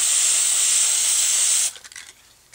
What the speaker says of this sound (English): I've been spray painting with this little stencil